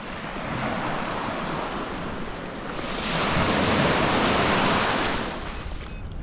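Ocean surf rolling onto a beach, a steady broadband wash that swells louder for a couple of seconds in the middle before easing back, with some wind noise and no talking.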